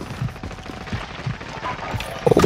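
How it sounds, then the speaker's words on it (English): Rapid gunfire from a Call of Duty Warzone match crackles in short bursts, several quick shots spaced through the moment with a louder cluster at the very end. "there's shooting going on in here"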